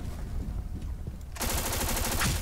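Unsuppressed automatic gunfire in the online shooter Black Squad, with a rapid, continuous burst that starts abruptly partway through and rattles loud and close to the end.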